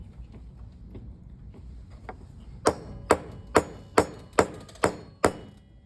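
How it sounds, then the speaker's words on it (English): Seven sharp metallic hammer blows flare a metal rivet during metal riveting, evenly spaced and loud, following softer faint tapping earlier on. "once I have it flared, I can then go and hammer it regularly"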